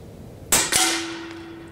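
Steyr LG110 High Power air rifle fired twice in quick succession: two sharp, loud close cracks a fraction of a second apart, followed by a brief ringing tone as the sound decays.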